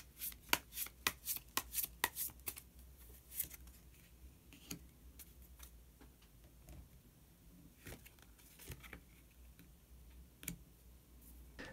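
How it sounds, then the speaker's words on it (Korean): Tarot cards being shuffled and a card drawn, a rapid burst of crisp riffling snaps up close at first, then sparser soft card clicks and slides, all quiet with no talk. "그러면 마지막으로 히든 카드 한 장 더 뽑아보도록 하겠습니다."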